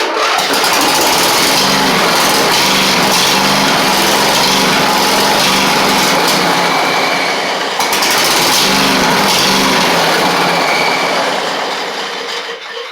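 A Briggs V-twin engine on a riding mower runs loud and steady on full choke, with a rough rhythmic chug throughout and a short dip in the middle.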